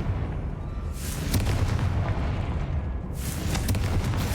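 Confringo fire spells blast in Hogwarts Legacy, with a continuous roar of booming explosions and crackling bursts, loud and dense, swelling in two strong waves over the clip.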